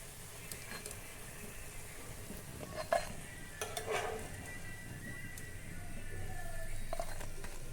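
Slices of taro (kochu) fry in a pan with a soft, steady sizzle, while a spatula scrapes and clinks against the metal in a few close knocks.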